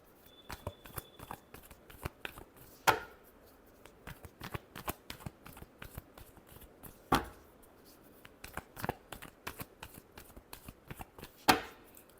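Tarot cards are shuffled close up in a quiet room, giving a run of soft, irregular riffling taps and a few sharper slaps as the deck is squared.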